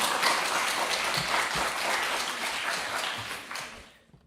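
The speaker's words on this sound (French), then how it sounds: "un tonnerre d'applaudissements pour Roméo" An audience gives dense, sustained applause at an evening student speaking-competition event, holding steady and then thinning out and fading near the end.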